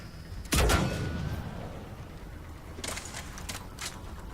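Gunfire in the video game Mass Effect 3: one loud, sharp shot with a decaying tail, followed a few seconds later by a quick cluster of fainter bursts, without talk.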